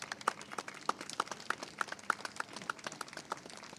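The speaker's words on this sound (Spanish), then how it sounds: "a quien le damos la bienvenida y le brindamos un fuerte aplauso" Audience applause welcoming Miss Perú 2020 at a ceremony, light and fairly sparse clapping with distinct individual claps, heard from a moderate distance with no voices over it.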